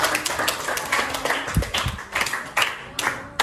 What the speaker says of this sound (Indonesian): Tepuk tangan buat Maria